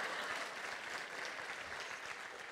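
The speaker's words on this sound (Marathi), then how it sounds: "आईला निर्व्यसनी व्हा म्हणल्यावर निम्म्यांनी टाळ्यात वाजवल्या." Applause from a live comedy show audience, a dense, even patter of many hands clapping, distant and fairly faint, holding steady throughout.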